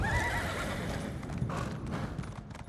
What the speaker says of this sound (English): A horse that's made of blood.